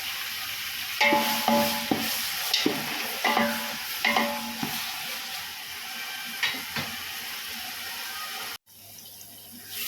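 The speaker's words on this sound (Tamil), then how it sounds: "வெங்காயம் பச்சை மிளகாய் சேர்த்தாச்சு இது ரெண்டும் நல்லா வதங்கட்டும்" Onions and green chillies sautéing in a pan for biryani, a soft sizzle broken by clinking stirs of a utensil against the pan at irregular intervals, fairly quiet and close, then a brief cut near the end.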